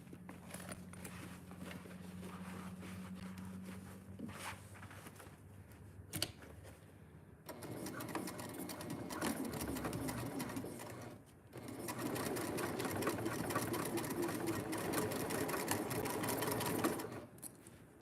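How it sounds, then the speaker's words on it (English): A sewing machine runs steadily, stitching a quarter-inch seam across the corner of a fabric piece, with brief pauses before resuming in long, continuous, close-up bursts. "you're gonna sew across a 1/4 inch seam on the corner"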